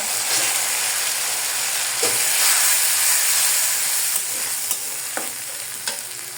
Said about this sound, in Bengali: এখন একসঙ্গে দিয়ে দেব আর ভালো করে মশলাটাকে আমি কষিয়ে নেব